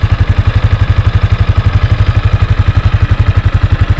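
A Yamaha Sniper 155 motorcycle engine idles steadily and close by, its even, rapid low thump carrying a light mechanical clatter with no voices over it.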